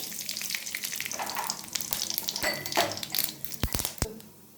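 Dried chilies and cumin sizzle and crackle in hot oil in a pan for an Odia mushroom fry, with a steady close frying hiss broken by a few sharp pops and stirring clatters.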